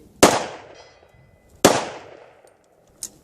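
Two sharp, loud gunshots about a second and a half apart during a bullet shooting test, each with a ringing tail, then a fainter metallic click.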